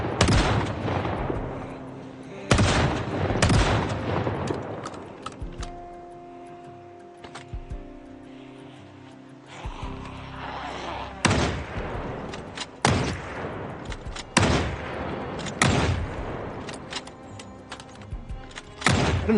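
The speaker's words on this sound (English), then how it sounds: "you can't give me a group like this and tell me not to pull out the shotgun" Shotgun blasts in the Project Zomboid video game, loud close bursts fired in irregular clusters with short gaps, mixed with other game sounds and brief quieter stretches.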